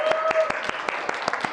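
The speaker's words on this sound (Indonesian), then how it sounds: "Kita tepuk tangan dulu" A school program audience gives a short burst of applause, with separate claps landing in a loose rhythm against background chatter.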